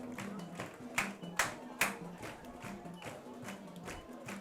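A high school football crowd at Phillipsburg vs Plainville clapping after a touchdown, heard as a few sharp claps and rhythmic clapping over a low, steady crowd murmur with a voice talking faintly, fairly distant.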